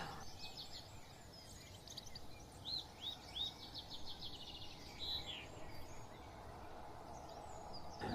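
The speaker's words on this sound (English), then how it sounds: "there's Mr. Pheasant giving his little call" A pheasant in a wood gives a few brief distant calls amid twittering small birds and a steady insect hum, all faint outdoors.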